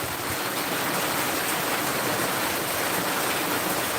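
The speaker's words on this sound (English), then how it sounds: "It's heavy rain here again." Heavy rain pouring down in a steady, dense hiss with no pauses, loud and even throughout with no voices.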